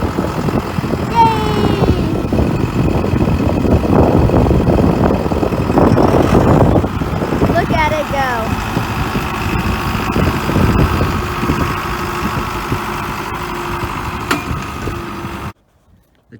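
A John Deere 5510 tractor with a cab, freshly repaired after a clutch housing replacement, runs with a steady loud engine drone for about fifteen seconds before cutting off; a person briefly cheers and talks over it.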